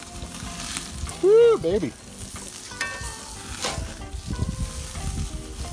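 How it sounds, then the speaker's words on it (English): Burger patties, one of three double cheeseburgers, sizzle and fry steadily on a griddle just after being flipped, with the hiss holding under a brief exclamation and the clatter of a spatula. "Burger's been on for about 3 minutes. We're gonna give him a flip."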